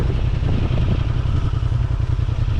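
Honda Transalp 750 motorcycle rolling at very low speed without the clutch, a steady low engine chug with a close, even rumble throughout.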